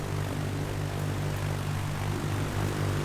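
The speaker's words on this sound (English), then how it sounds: "I thought I heard another engine, but it's my own engine." Propeller aircraft engine from a flight simulator game drones steadily and loudly with a constant low hum, alone with no voices.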